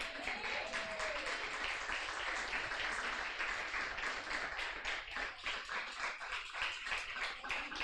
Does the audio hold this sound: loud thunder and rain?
no